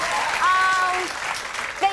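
A late-night talk show studio audience bursts into applause, a dense wash of clapping that fills the moment while a voice speaks briefly over it.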